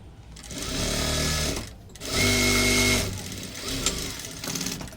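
A sewing machine stitches a blouse sleeve in two sustained whirring runs, loud and close, separated by a short pause, with faint clicks and handling afterward.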